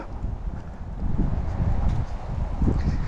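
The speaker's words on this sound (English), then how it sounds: "it's windy today. It's not gonna be good for the sound on the camera." Wind buffets a camera microphone during a street walk, a low rumbling and fluttering that swells louder after the first second and keeps pulsing in uneven gusts.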